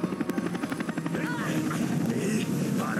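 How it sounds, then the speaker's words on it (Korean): Cartoon propeller spinning and blowing wind, a loud rhythmic whirring chop that settles into a steady rushing drone under speaking voices. "프로펠러 바람 맛을 좀 봐라."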